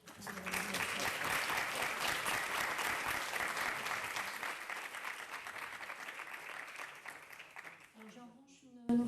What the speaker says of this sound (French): je veux bien que vous les applaudissiez.